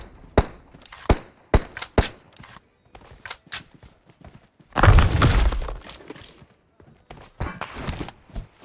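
Gunshots in the battle-royale game PUBG Mobile, several sharp single cracks spaced irregularly with footsteps and thumps between, then a longer loud burst of fire midway, followed by more scattered shots.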